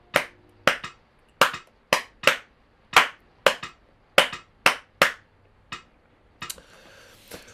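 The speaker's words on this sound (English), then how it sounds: "Rumba clave, notice there's one slight difference," Wooden claves struck in a rumba clave rhythm, crisp hard clicks repeating the pattern over and over at a steady pace, close and clear, ending with a brief rustle.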